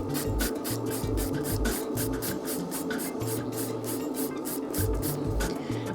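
A hand nail file rasps over a PolyGel nail in quick, steady back-and-forth strokes, close and continuous with an even rhythm, and no voices over it.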